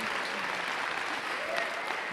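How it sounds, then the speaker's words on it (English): A crowd claps steadily at a League of Legends esports event at DreamHack Winter 2012, a short even burst of applause heard at some distance. "Let's give these guys one more round of applause."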